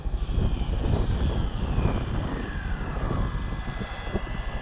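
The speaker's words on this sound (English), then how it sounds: "I think we're at the limits of that little motor" A Rlaarlo X12S RC buggy makes a high-speed pass of about 85 mph, its small electric motor pushed to its limit: a thin, high whine that falls in pitch as it goes by, over a rough, rumbling ground noise.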